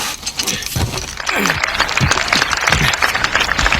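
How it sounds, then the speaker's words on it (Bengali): A brief burst of applause sound effect, dense clapping that swells after a second and continues steadily to the end. "তোমার জন্য জোর একটা করতালি"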